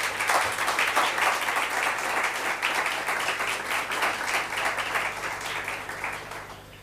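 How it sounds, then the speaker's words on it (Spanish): An audience at a national graduates' meeting on higher education applauds the speakers, steady dense clapping from a crowded room that holds for about seven seconds and fades slightly at the end. "vamos a brindar otro fuerte y cálido aplauso para los disertantes"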